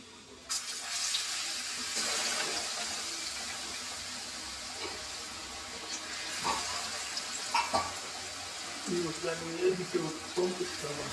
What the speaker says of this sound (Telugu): ఇప్పుడు మనము ఉల్లిగడ్డలని నూనెలో ఇడుచుకుంటాము